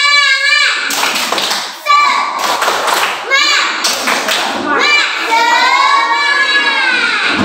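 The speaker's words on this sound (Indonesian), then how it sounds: "Kita lakukan tepuk semangat." Classroom children perform a rhythmic 'tepuk semangat' clapping cheer, sharp claps in short patterned bursts mixed with loud chanting voices, close and energetic.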